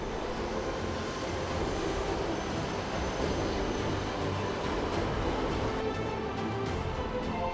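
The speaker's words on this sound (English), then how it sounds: "The Shinkansen driven by Yanagisawa is pulling in to Tokyo Station." A Shinkansen bullet train pulling in to Tokyo Station, a continuous broad rumble and rush of rolling wheels and air that stays loud and steady throughout.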